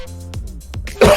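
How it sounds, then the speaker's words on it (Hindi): A man with a sore throat from talking at length clears his throat and coughs up close, with several short rasping bursts ending in a louder, harsher cough. "मुझे बहुत देर से बोलता हूँ तो खांसी आने लगती है"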